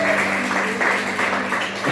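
A church congregation applauds in praise of God during a revival worship service, a steady wash of clapping for the whole two seconds over a sustained keyboard tone.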